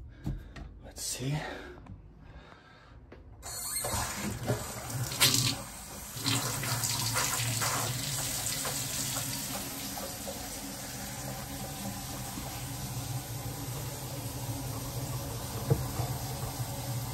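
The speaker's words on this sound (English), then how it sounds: "gonna turn on the water actually and see if it" Tap water runs steadily while an APEC ROES-PH75 reverse osmosis system is installed under a sink, a constant moderate rush after a few handling clunks, continuing for the whole stretch.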